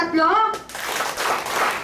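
A voice talks briefly, then an audience claps in a few quick, rough bursts that come close together at moderate volume.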